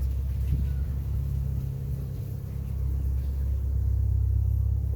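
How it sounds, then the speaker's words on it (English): A car engine runs steadily at idle after a fresh install of an ATI damper pulley and a power steering delete, a continuous low rumble close by with no talk. "just going to start up and run through, see if any leaks"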